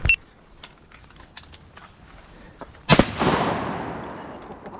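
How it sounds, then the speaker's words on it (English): A single loud shotgun blast goes off about three seconds in during an opening-day duck hunt, followed by a long fading echo, with faint clicks and a sharper crack at the start. "Who shot that?"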